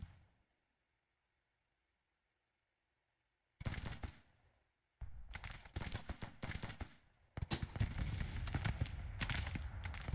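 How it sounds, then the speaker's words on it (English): Artillery fires in the Civil War strategy game Grand Tactician, a series of booming and crackling volleys that begin after several seconds of silence, then repeat irregularly and build into denser rumbling fire. "what's our artillery up to? They're firing, it looks like."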